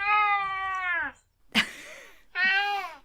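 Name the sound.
cat meowing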